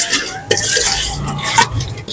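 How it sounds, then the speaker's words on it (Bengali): Fish is rubbed by hand with salt and turmeric powder, giving a close, wet squelching and rustling mixing sound over a couple of seconds. "লবণ আর হলুদের গুঁড়ো দিয়ে মাছটা ভালো করে মেখে নিচ্ছি"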